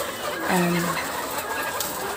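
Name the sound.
chickens clucking in a commotion in the coop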